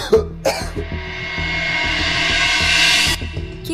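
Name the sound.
coughing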